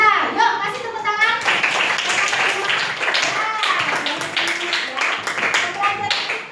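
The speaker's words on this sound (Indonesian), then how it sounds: "yuk kasih tepuk tangan" Children in a primary school classroom clap their hands in a burst of quick, close claps, overlapping with an adult and kids talking.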